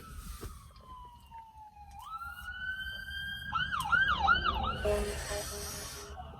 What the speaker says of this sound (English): Ambulance coming.